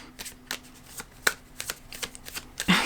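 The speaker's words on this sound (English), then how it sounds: "I'm gonna pull one card from this Animal Apothecary." An Animal Apothecary oracle card deck being shuffled, a series of crisp riffles and flicks at a steady pace, close by, ending with a louder rustle as a card is pulled.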